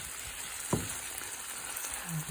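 Shrimp and shrimp heads frying in a pan, a faint steady sizzle with one soft clack of a utensil and light stirring noises, close by and without talk.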